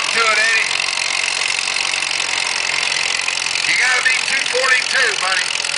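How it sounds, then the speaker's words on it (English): Antique Spring Lake Manitou tractor engine running at a fall festival antique tractor pull in Delavan, a steady loud mechanical drone that continues throughout, with a commentator talking over it. "a little Spring Lake Manitou tractor right here"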